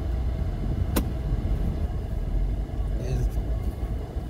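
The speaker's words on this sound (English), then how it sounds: "Serekunda, driving in Serekunda." Car driving through the busy streets of Serekunda, The Gambia, with a steady low engine and road rumble throughout, a brief sharp click near the start and faint background noise later.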